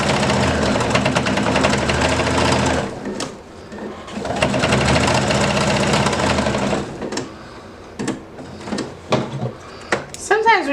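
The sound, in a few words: sewing machine stitching bulky fabric layers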